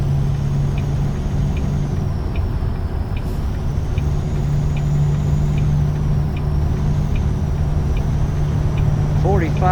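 Truck engine droning steadily under gentle throttle in American Truck Simulator, a constant low rumble with a faint high whine and light periodic ticks, fairly loud throughout.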